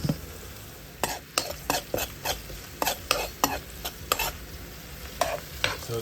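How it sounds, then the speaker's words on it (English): Onions fry in a pot under a soft steady sizzle. A spoon stirs and scrapes the pot in a string of sharp, irregular clinks, close by and fairly quiet, while jerk chicken and rice and peas are made for Sunday dinner. "I'm just frying up some onions for both pots."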